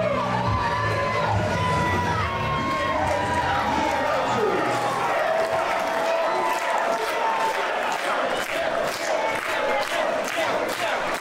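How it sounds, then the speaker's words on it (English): A wrestling crowd at an All Out War event in Overland Park, Kansas cheers and shouts loudly and continuously, with whistles and scattered claps in the mix and no pause throughout. "Crowd showing love to Gil Rogers and Jimmy Hart here in Overland Park, Kansas at All Out War."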